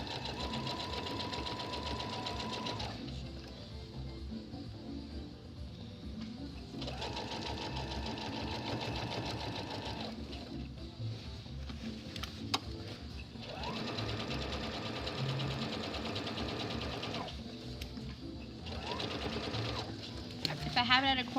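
Sewing machine stitching a quarter-inch seam around a beginner tote bag, running in several long steady bursts with short pauses between them, with some talk underneath.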